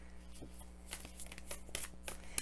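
Tarot cards are riffle shuffled close by, a quiet papery flutter of quick crisp snaps and bursts, with no voice over them.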